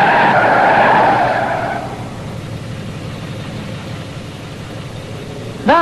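A car skids with a loud tire squeal as it brakes hard to a stop, the screech fading into steady road and engine rumble, with a sharp squeal returning at the very end.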